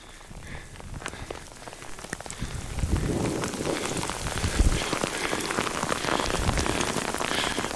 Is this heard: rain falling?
yes